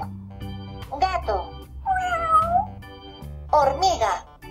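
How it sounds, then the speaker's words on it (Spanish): A cat meows three times, drawn-out and plaintive cries spaced across a few seconds over soft background music, clear and close. "Gato."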